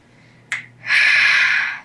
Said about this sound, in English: Don't you snap your fingers at me.